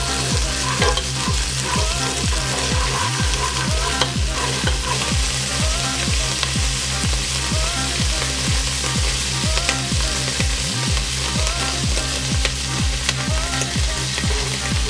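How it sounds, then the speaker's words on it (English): A frying mixture with ginger paste for crab sizzles loudly and steadily while being stirred, with rhythmic scraping strokes of a utensil repeating throughout. "2 tablespoons of ginger paste, just like that. And stir the mixture up."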